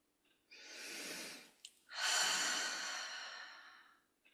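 Slow, deep exhalations during a guided breathing exercise: two long, airy breaths out, the second fuller and longer, separated by a brief sharp intake, close and quiet with no talking.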